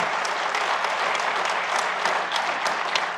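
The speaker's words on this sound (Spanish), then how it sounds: "Un aplauso, por favor." An audience at a swine-farming panel discussion on probiotics versus antibiotics applauds the speakers, steady moderate clapping from a room full of people with a few sharper individual claps standing out.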